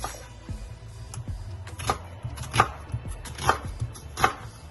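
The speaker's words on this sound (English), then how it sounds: "So I'll cut my onions" A knife chops onions on a board in a run of spaced, crisp cuts that grow more regular toward the end, close and fairly quiet, with no voices.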